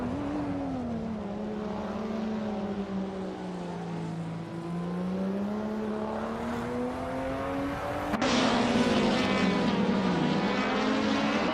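A 2014 BMW M235 race car in iRacing drones steadily at full engine noise, its pitch slowly sagging and then climbing. Near the end a sudden shift lifts it to a harsher, louder roar.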